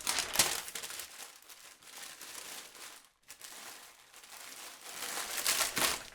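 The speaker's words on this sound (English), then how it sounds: "So we're going to wrap it in a very similar way." Ceramic plates being wrapped in packing paper for moving: close, irregular crinkling and rustling of paper in bursts, with a brief lull midway, fairly quiet.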